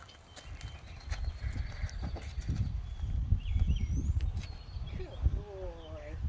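Wild mustang pony hooves clip-clopping on the ground, an irregular series of soft, close thuds with a faint whinny-like squeal near the end, while a person talks over them.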